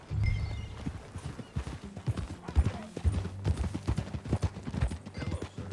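Horse hooves clip-clop at a steady walking rhythm in Red Dead Redemption 2, close and fairly loud, with a low snort or whinny near the start.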